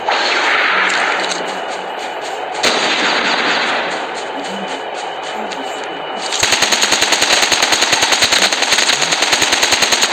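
Call of Duty battle royale gunfire: loud continuous shooting, first in longer heavy volleys, then a rapid, evenly spaced automatic burst that runs to the end.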